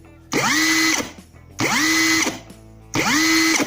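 A JLD impact wrench run at full trigger, three loud close bursts of high whining motor with rattling hammer action, each spinning up and cutting off with short pauses between, no talking.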